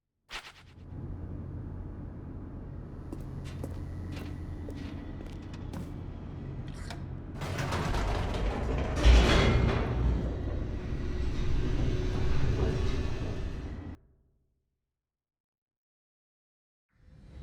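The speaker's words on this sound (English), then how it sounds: "The elevator raced downward, plummeting towards an unknown fate." An elevator plummeting downward in the video game The Stanley Parable, a steady low mechanical rumble that swells into a louder rushing roar with a heavy thud midway, then cuts off abruptly into silence.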